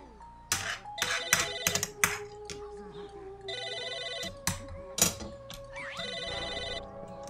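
At a summer camp, a telephone rings in two loud trilling bursts, mixed with sharp knocks, taps and clatter, with brief voices around the rings.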